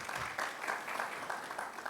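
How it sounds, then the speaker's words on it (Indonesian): A church congregation at a Sunday service claps together, a quiet, steady wash of applause lasting about two seconds with no speech over it. "Berikanlah tepuk tangan buat dia."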